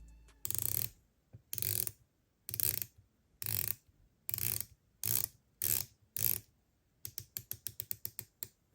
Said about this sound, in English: The bezel action is very solid and satisfying to turn.